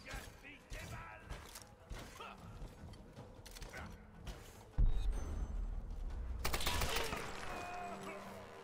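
Gunfire in the Tomb Raider video game, a dense flurry of sharp shots and mechanical clatter that swells louder midway, mixed with game sounds and someone speaking over it.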